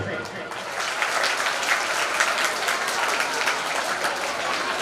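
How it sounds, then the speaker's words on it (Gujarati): An audience at a primary school function bursts into loud, sustained applause, a dense wash of many hands clapping without a break for several seconds. "જોરદાર તાળીઓ."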